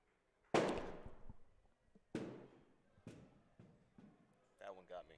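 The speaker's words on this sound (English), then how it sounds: "Sounded like a gunshot here as the scout tower got hit by a ball." A baseball strikes a scout tower with a sharp gunshot-like crack, followed by several fainter bangs and impacts at irregular gaps, then a brief burst of voices at the end.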